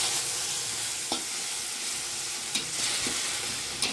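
Poppy seed and peanut paste fries in oil with two dried chillies, sizzling steadily while a utensil stirs it, scraping sharply against the pan three or four times.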